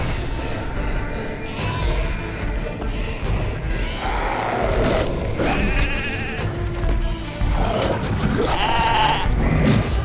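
A flock of about 150 sheep, small and big ones with lambs, bleats in a constant overlapping chorus of nearby and more distant calls under a dense background of noise.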